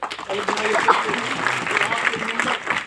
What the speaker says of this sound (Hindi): आप लोग ताली बजाइए